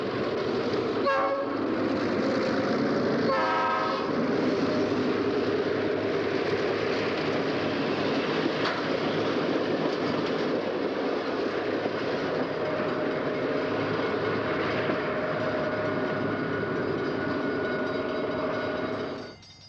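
A Rock Island Rocket passenger train on its run into Chicago rumbles along with steady wheel noise, while its horn sounds in a couple of short blasts early on.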